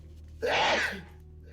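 A single sneeze, sharp and breathy, bursting out of a quiet background with a low hum and then trailing off, fairly close and moderately loud.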